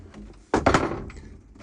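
A wooden cabin door on a 1986 Island Packet 31 sailboat swings shut close by with a soft thud and a short rattle, then quiet room tone.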